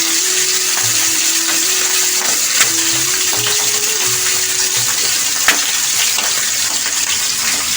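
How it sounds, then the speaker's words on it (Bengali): Pieces of rui fish fry in hot oil with a steady, close, hissing sizzle that runs unbroken throughout. A soft melodic tone plays faintly in the background. "তেল গরম হয়ে গেছে আমাদের, এবার মাছগুলো আমি ভেজে নেব।"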